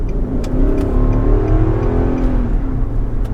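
A car engine revs up hard and steadily, a loud rising roar that builds and holds throughout.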